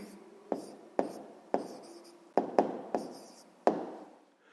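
Handwriting on paper while an answer is written down for a sixth-grade maths exercise: seven sharp pen or pencil strokes, each fading out, in an irregular rhythm, close and fairly quiet, with no voices.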